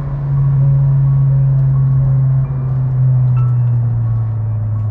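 A car with custom suspension under hard full-throttle acceleration, a loud, steady low engine drone held close for the whole stretch with a brief dip midway.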